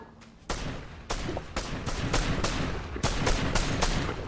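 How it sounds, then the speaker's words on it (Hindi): A rapid series of sharp gunshot bursts in Fortnite fires repeatedly, loud and close, with steady bangs at irregular intervals over a constant background rumble. "ये क्या गोली चला रहे हो किसी पे?"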